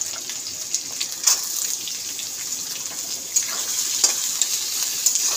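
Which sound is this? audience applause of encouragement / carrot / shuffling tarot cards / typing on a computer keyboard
carrot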